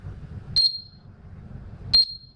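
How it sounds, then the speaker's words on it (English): A Zigbee weather monitor's temperature alarm gives two short, high electronic beeps about one and a half seconds apart over a low background murmur. "as the temperature goes above 40 degrees centigrade, immediately there is an alarm sound."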